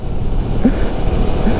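A CF Moto NK 300 naked motorcycle, ridden in sixth gear with the throttle opened, gives a steady, close engine rumble mixed with heavy wind buffeting and no clear rise in pitch.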